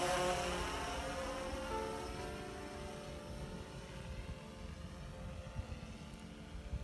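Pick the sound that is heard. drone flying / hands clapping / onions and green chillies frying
drone flying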